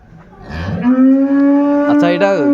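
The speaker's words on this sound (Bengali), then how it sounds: "গাভী বাছুর বেশ সুন্দর" A dairy cow with her calf at a cattle market in Birampur, Dinajpur, lets out one long, loud moo close by. The moo swells and holds steady, then wavers near the end.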